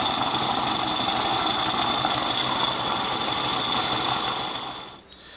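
A small live-steam model locomotive, an Accucraft Ragleth, hisses steadily at close range, a continuous high steamy roar with faint mechanical squeals, fading out near the end.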